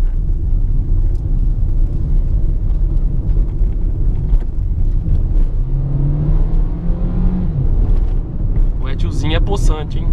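A Toyota Etios X Plus 2019 automatic with a 1.5 dual VVT-i engine accelerates on a street, its engine rising in a rumbling drone with a brief whine, while someone talks over it.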